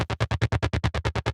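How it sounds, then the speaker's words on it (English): Fat pulse-width-modulation synth patch from Omnisphere, A side, with chorus and echo effects. A quick run of about a dozen evenly spaced, buzzy pulsing notes plays alone in just over a second. "So the A side is this fat PWM pulse width modulator deal, and it sounds like this."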